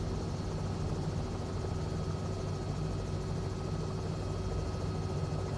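A CowanSim R66 helicopter in Microsoft Flight Simulator with an immersive audio add-on during a scenic flight: a steady, unbroken rotor and engine drone at even loudness throughout, with no voices.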